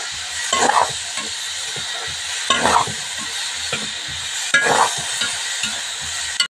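Peanuts fry in hot oil in a pan with a steady sizzle, while a spoon stirs and scrapes in three distinct louder bursts, close by with no talk.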